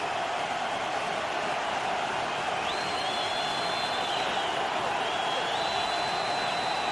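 Football stadium crowd at an Oakland Raiders home game against Tampa Bay, a steady loud roar of cheering fans with whistles rising over the din throughout.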